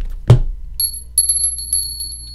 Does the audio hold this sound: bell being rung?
yes